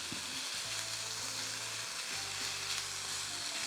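Crumbled sausage browns in a pan, rendering its fat as it cooks, giving a steady, close, continuous sizzle and crackle with no voices.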